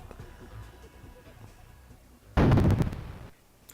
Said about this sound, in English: More explosions, and I don't know where they're coming from.